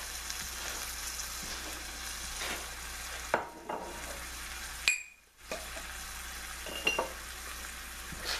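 Liquid reducing and sizzling hard in a pan with Chilean sea bass, a steady close frying hiss broken by a few brief dips and clinks.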